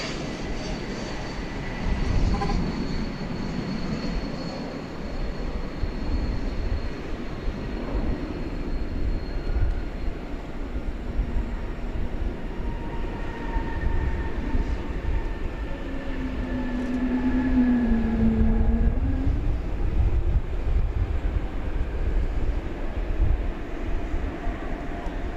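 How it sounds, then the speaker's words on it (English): A Turkish Airlines jet taking off at Dallas/Fort Worth airport, a steady broad engine roar that swells and fades over the run, with a rising whine partway through, heard from a distance. "Turkish is about to take off."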